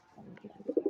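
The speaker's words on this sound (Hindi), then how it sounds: "ये देखो नर और कबूतरी और कबूतरा बाहर निकल गए हैं।" Domestic pigeons, a white female and a male, cooing softly in a short low series of throaty notes that swell louder toward the end, close by and with no talk.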